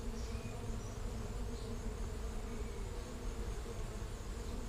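Honey bees building comb inside a hive, a dense, steady droning buzz of many insects filling the whole stretch, close and unbroken.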